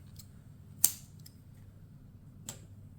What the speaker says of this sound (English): Chain 1, and you can cut your yarn,